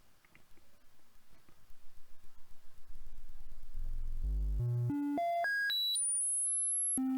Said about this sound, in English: That's the sound of a successful calibration.